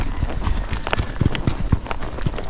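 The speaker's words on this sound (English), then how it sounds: "Now we're going with flat walk" Hooves of a Tennessee Walking Horse in a flat walk around a small round pen, a steady close clip-clop of repeated footfalls on the ground, loud and alone.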